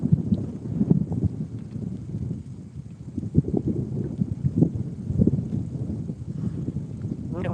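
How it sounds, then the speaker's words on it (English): Wind gusts outdoors on a fishing outing, a loud, low, blustery rumble buffeting the microphone in uneven surges, with faint knocks and rustles underneath. "And wind picking back up again."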